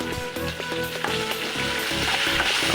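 Green chillies fry with chana dal, urad dal, cumin and mustard seeds in hot oil for lemon pulihora, giving a loud, dense, continuous sizzle with brief stirring clatters and no talking.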